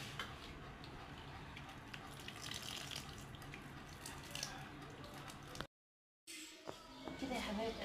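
Water is poured onto the soil around a newly planted plant in a garden, making a continuous close splashing trickle that is interrupted by a brief silent gap before it resumes.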